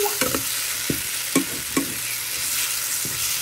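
Spice paste sautés in oil in a wok for a vegetarian fish-style curry, a continuous sizzle broken by several sharp clinks and scrapes of a stirring spoon against the metal, close and clear.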